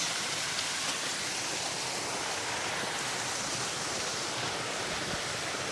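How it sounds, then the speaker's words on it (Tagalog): Steady rushing water fills the scene, a small waterfall at Kaparkan Falls in the Philippines, its constant broadband roar at moderate volume with no voices. "Mini falls."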